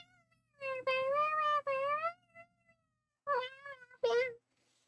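A person imitates a cat with drawn-out meows, a long wavering one then two shorter calls after a pause, close and clear in a quiet room.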